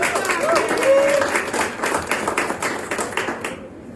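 Audience applause at a cooking competition, a dense spread of hand claps held at a steady level for several seconds, with a voice briefly heard over it near the start before the clapping thins toward the end.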